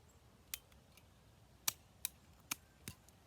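Pruning shears snip through raspberry cane in five sharp, distinct clicks spread over a few seconds, close and crisp against a quiet outdoor background.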